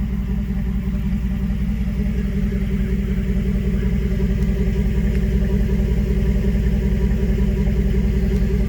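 The 5.3L V8 of a 2011 GMC Sierra pickup runs at a smooth, even idle, a close, steady low rumble with a regular pulse that holds for the whole stretch, with no talk over it.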